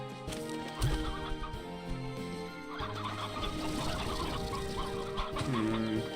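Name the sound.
chickens clucking in the video game Slime Rancher 2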